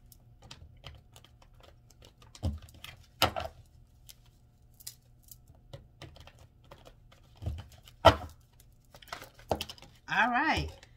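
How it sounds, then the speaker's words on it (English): Soft papery riffling and scattered taps of tarot cards being shuffled, quiet and close, with brief murmured speech in between. "Let's get a good shuffle here."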